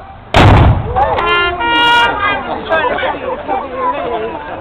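A ceremonial cannon salute at the Pavilion in Weymouth fires one loud, close blast, followed by crowd chatter and people talking as the echo fades.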